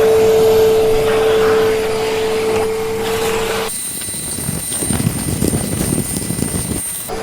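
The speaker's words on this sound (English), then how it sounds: "let's start vacuuming" A vacuum cleaner cleaning a room in a mountain guesthouse in Manali, a loud, steady motor whine that shifts abruptly to a lower, rougher suction noise partway through, with no talk.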